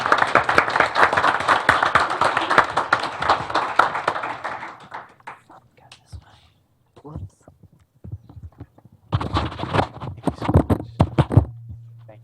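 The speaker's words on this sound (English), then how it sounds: "The audience can join me in a round of applause for our support." Audience applause at a county board of education business meeting, a dense burst of clapping for the first five seconds that fades out, then a second shorter round of clapping, with brief voices between.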